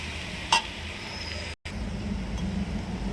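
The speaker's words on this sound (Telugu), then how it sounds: "ఉప్పు కారం వేసి ఇప్పుడు ఫ్రై చేసాము కదా" Vegetables with salt and chili powder frying in a pan, a steady near sizzle with a single sharp utensil clink early on and a brief dropout midway.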